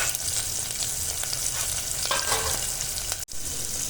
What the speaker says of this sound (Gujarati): હવે નાખશું ડુંગળી. આ બધું જ 2 મિનિટ સાંતળવા દેવાનું છે